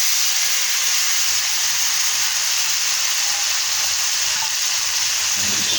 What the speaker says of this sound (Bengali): শাকগুলো ভালো করে নেড়ে নেব